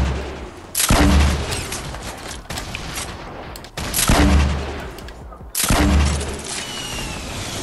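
Close, loud blasts of a grenade explosion and gunfire in Fortnite Battle Royale, a heavy boom followed by crackling bursts of shots repeating in three waves with brief pauses between them.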